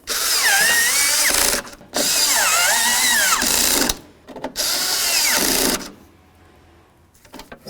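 A power drill drives bolts into the exterior door latch of a 1988-2002 GMC Sierra 1500 in three loud, close, whining bursts of about two seconds each, with brief pauses between them.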